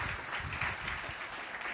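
Applause from a dinner audience at a kick-off dinner event, a steady dense wash of clapping, moderately loud and continuous throughout with faint voices beneath.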